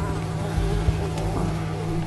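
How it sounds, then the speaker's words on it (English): Mosquitoes in a swamp in the game Unravel drone with a loud, continuous insect buzz that holds steady and close the whole way through, over a low background hum, with no voices. "Mosquitoes."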